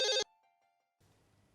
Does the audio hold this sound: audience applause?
no